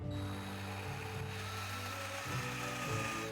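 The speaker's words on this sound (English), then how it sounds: "I have a drill bit and I'm going to drill a hole right in the middle on the top here" A power drill bores a hole into the top of a wooden piece, its motor whining steadily and loudly up close, the pitch dipping briefly as the bit bites, with no talking.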